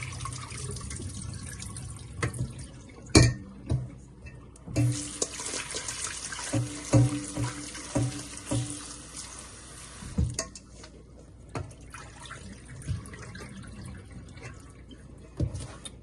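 Food is rinsed under a running kitchen tap during chow mein stir-fry preparation: soft, steady water flow with intermittent splashes and clinks of items being handled, fairly quiet and close.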